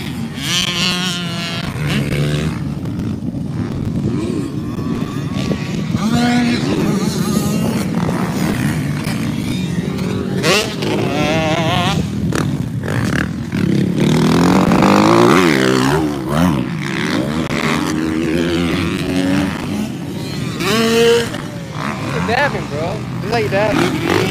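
A Kawasaki KLX dirt bike revs hard on a ramp outdoors, its engine snarling in repeated bursts that rise and fall while people talk and cheer loudly over it.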